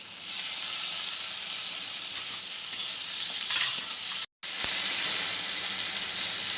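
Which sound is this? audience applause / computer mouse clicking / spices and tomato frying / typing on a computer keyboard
spices and tomato frying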